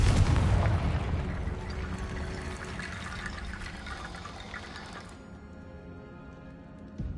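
Confringo fire spell blasting in Hogwarts Legacy, a loud booming explosive burst with a rumbling rush that holds for about five seconds before cutting off sharply, leaving a quiet tonal tail.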